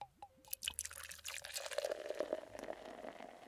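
Steamed milk poured into espresso at a coffee shop counter, with a few clinks and a close, soft liquid stream that settles into a bubbling pour, no talk over it.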